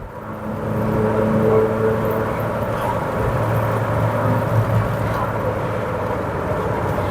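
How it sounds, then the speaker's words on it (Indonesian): Steady droning hum from the differential of a Mercedes-Benz C200 W202 on the road after an engine overhaul, a continuous low whir under road and engine noise throughout. "tapi kalau kuping saya sendiri ini suara dengungan gardan ini."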